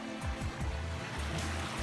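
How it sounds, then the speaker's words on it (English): Steady broadband rush of water flowing in a forest stream near a waterfall, with the current running into a small pool, continuous and fairly close with no talking. "Water's flowing pretty good."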